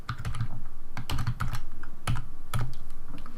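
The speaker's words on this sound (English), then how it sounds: "For example, if I type this" Typing on a computer keyboard while entering MATLAB commands, with a quick series of close, crisp key clicks in short bursts and no talking.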